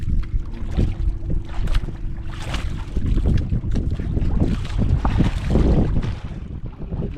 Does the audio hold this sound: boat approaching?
yes